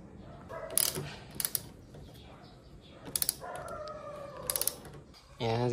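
Metal clicks and ratcheting from tightening bolts while assembling a bicycle, a few short bursts spread through the clip over steady background noise, with a brief louder clatter at the end.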